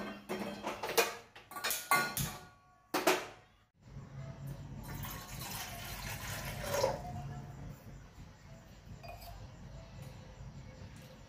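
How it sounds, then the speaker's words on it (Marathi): Clinks of metal utensils ring out up close, followed by a sustained rushing stream of water poured into a cooking pot, steady for several seconds before easing off. "पाणी टाकले"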